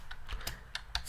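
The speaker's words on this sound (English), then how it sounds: "Now we are going to type nano" Computer keyboard keys tapped while a command is entered on an Ubuntu server, a handful of separate clicks at an uneven pace, fairly close and clear with no talking.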